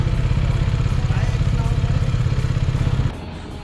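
A motorcycle engine rumbles steadily and close by outside a hotel as a group sets off on bikes toward Pokhara, then cuts out abruptly near the end, leaving quieter background noise.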